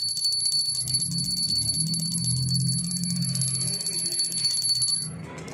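A brass bell pendant of the kind hung on a goat or dog collar rings steadily for about five seconds, a bright continuous jingle with faint low rustling beneath, then cuts off near the end.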